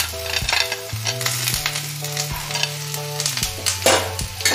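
Chopped onion and green chili sizzle steadily in hot oil in a pan, with a spoon stirring and scraping now and then, over a background of music and no talking.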